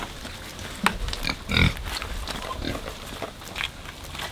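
Pigs grunt and oink on a farm in short irregular bursts, several of them close together, with a few louder squealing grunts and farmyard noise between them.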